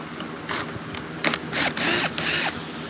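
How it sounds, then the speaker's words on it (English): A screw gun backing a screw out of a wooden chicken coop, giving several short, loud whirring bursts with brief pauses between them, close by and with no talking. "Can I see your screw gun? So we're gonna pull a screw."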